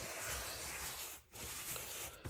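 Cleaning powder rubbed by hand into carpet to treat pet urine, a close, steady dry scrubbing hiss with a brief pause midway.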